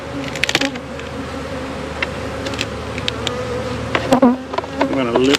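Honey bees drone in a dense, continuous buzz from a heavy, honey-filled open beehive in December, with individual bees whining closer past the ear now and then.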